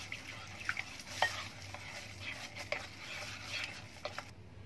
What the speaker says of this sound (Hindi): तो मिक्स करेंगे अच्छे से और मैरिनेशन रेडी हो जाएगी।